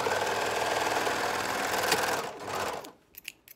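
A domestic sewing machine stitches a shoulder seam on a tee, chaining straight on without cutting the thread, running in a steady close whir for about two seconds and then slowing and stopping, followed by a few faint handling clicks.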